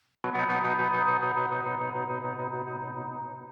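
A single crunchy, overdriven electric guitar chord rings out sharply and sustains with a gritty, effected tone, slowly decaying, played alone.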